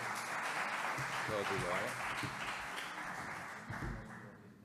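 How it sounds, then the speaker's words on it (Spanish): Audience applause welcomes an entrepreneur onto the stage at a business talk, a steady wash of clapping that carries on under a speaking voice and tapers off toward the end. "Un fuerte aplauso también para un gran emprendedor, para Jaime"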